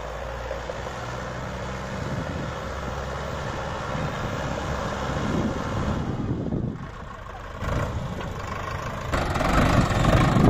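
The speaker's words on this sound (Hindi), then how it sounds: "कितना उल्टा काटा ट्रैक्टर, लेकिन बिल्कुल भी नहीं रुका दूसरे गियर में।" A Swaraj or Sonalika tractor engine runs loud and steady in second gear during a pulling demonstration, a dense rumble with some fluctuation and a brief dip partway through.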